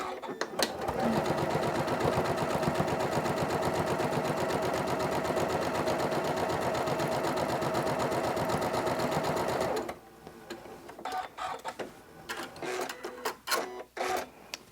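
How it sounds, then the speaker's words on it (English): A Janome sewing machine stitches a quarter-inch seam through a quilt-as-you-go mug rug, a loud, close, rapid rhythmic whirring for about ten seconds before it stops, followed by scattered handling clicks and rustles. "we're just going to stitch a 1/4 inch seam as we go along, and we'll start now"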